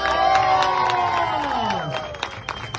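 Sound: audience applauding and cheering after a rap performance

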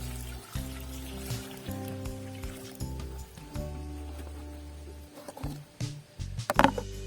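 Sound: water poured into a bucket of chopped comfrey

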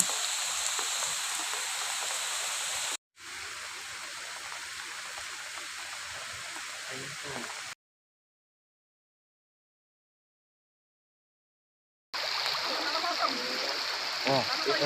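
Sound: flooded stream water flowing strongly beside road

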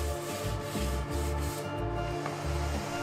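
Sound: light sanding of wooden closet parts

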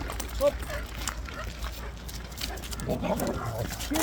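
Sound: Kangal dog barking

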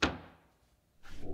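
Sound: cabinet door being tested, opening and closing

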